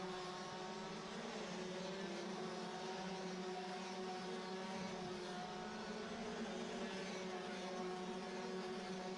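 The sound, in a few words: DD2 racing karts passing through turn 1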